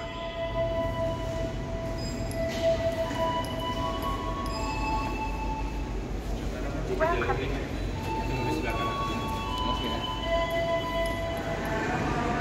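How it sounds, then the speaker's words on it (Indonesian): A busy Yogyakarta railway station: a steady rumble of trains and machinery, high tonal squeals and hums, with people talking in the background throughout. "Langsung saja kita masuk ke stasiun Yogyakarta."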